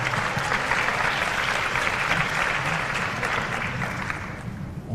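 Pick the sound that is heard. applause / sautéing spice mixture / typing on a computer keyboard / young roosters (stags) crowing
applause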